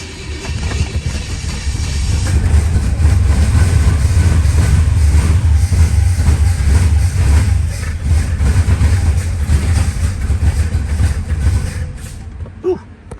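A 1935 Plymouth engine on a fresh carburetor runs rough, a loud, steady low rumble with uneven chugging that carries on close by for most of the stretch before cutting off near the end.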